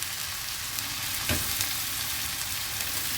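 Drained cooked rice stir-fried with vegetables in a pan for paneer fried rice, a continuous close sizzling hiss with a brief scrape of stirring midway.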